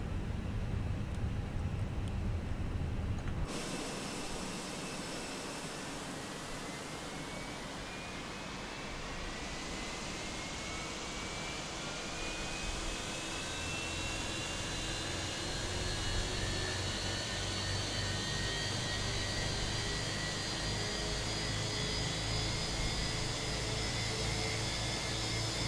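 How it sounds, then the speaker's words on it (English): Airbus A321 jet engines spool up in Microsoft Flight Simulator 2020, a steady roar that builds into a rising whine and then holds as a loud, continuous hum. "Right, let's go. Let's start the engines."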